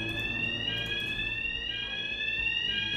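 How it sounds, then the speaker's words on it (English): Alarm blaring in Hitman 3, a continuous high electronic siren tone warbling steadily over low game ambience, loud and unbroken throughout with no speech. "Alarm berbunyi."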